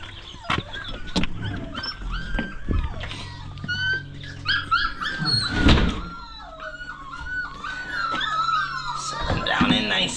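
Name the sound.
puppies whimpering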